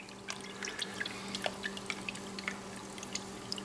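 A small prototype gold pan with riffles is worked in a water tank, giving steady, soft trickling with scattered drips and light sloshing; no one speaks.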